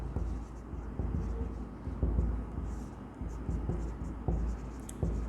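Pen writing out an accounting solution on paper or a board, steady scratchy strokes with periodic taps running continuously, close and moderately loud, with no talk.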